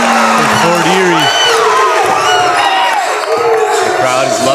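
Loud basketball crowd cheering and whooping at a game, with sustained roars and excited shouts filling the whole stretch, some voices calling out over the din.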